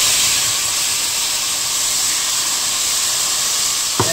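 Water poured into a hot pan of frying Mexican rice gives a loud, steady steaming hiss that holds evenly throughout, with a short knock near the end.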